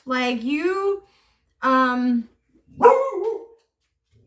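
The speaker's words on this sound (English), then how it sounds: "excuse me, that was my dog" A pet dog barks three times at close range, each bark a full, drawn-out woof with a short gap between them, loud in a quiet indoor room.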